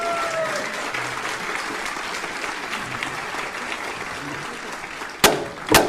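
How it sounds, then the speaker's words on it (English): An audience at a 2022 city State of the City address gives sustained, even applause that fills the room, ending with two sharp, louder bursts. "give them a big round of applause"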